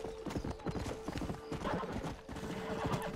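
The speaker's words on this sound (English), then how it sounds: "Okay, so we're just going to get on the horse right now." Hooves of a galloping horse in the Red Dead Redemption video game make a fast, steady clip-clop, with a neigh and other game sounds mixed in over a short stretch.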